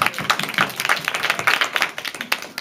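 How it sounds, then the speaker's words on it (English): A short burst of conference audience applause, many hands clapping at once in a dense, lively patter that holds steady before tapering slightly. "Thank you for a round of applause"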